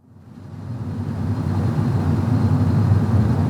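An SUV engine fires up and settles into a steady idle, a close, continuous low rumble that swells over the first second and then holds evenly.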